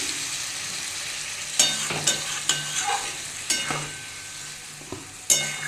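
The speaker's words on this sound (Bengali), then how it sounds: "আমি এবার এতে জল দিয়ে দেবো বেশি জল দেবো না" A beet, carrot and pea curry sizzles in a pan after a splash of water, a steady hiss punctuated by several sharp spatula knocks and scrapes against the metal, close by and without talk.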